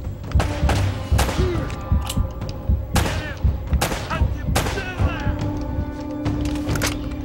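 Gunfire in the video game Uncharted: Drake's Fortune comes as loud, sharp shots spaced irregularly a second or so apart, with some echoing tails and game voices mixed in.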